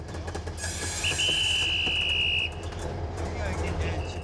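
A slow coal-hauling freight train, on a line built in 1965, crawls at about 5 km/h along track running through a village, with steady low rumble and a long high wheel squeal rising over the rolling noise.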